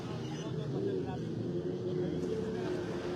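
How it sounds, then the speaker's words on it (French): Offshore racing craft arrive at the beach in Getaria during a powerboat race weekend, with a low, steady engine drone running under a commentator's talk. "Van llegando las motos poco a poco a la orilla"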